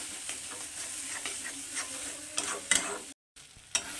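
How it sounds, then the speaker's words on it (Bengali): Mashed flat beans with a little sugar are fried and stirred in a pan, giving a steady close sizzle broken by scraping strokes of the spoon, a brief silent gap, then more stirring. "তো এটাকে আমি এখন আর একটুখানি ভেজে নেবো এটার সঙ্গে"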